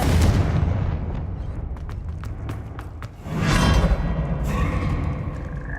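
Confringo fire spell blasts in Hogwarts Legacy: a loud burst followed by several sharp cracking impacts, then a second heavy whooshing explosion rumbling on, with no talk.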